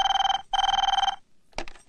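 An electronic telephone rings indoors with two bursts of a trilling electronic bell, the second cut short, followed by a brief bump.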